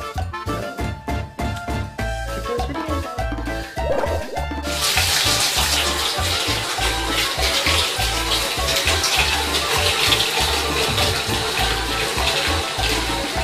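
A bathtub fills from the tap with a broad, steady rush of water that swells louder partway in and then pours on continuously, close and with no voices over it.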